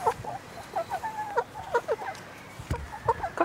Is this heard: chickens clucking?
yes